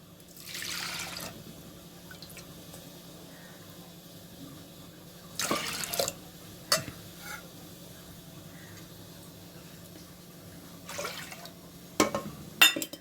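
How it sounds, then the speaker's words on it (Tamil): Water poured from a cup into a pressure cooker holding moong dal, heard as a few brief splashing pours separated by quiet stretches with faint drips. "ஒரு கப் பாசி பருப்புக்கு மூணு கப் தண்ணி ஊற்றிக்கலாம்"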